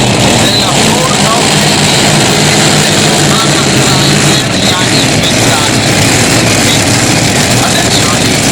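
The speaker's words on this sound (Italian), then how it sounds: "Ecco qua i 4 motori della Furno" The four engines of the Furno tractor-pulling tractor roar continuously and very loud at an Italian championship event in Chiarano, a dense, unbroken mechanical blare with an announcer's voice over it.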